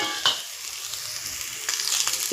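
Chopped ridge gourd stirred in a hot pan, with a soft steady sizzle, a spatula scrape near the start and louder stirring bursts toward the end.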